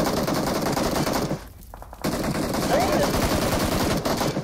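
Rapid automatic gunfire rattles loudly in PUBG Mobile, pausing briefly before resuming in dense, continuous bursts.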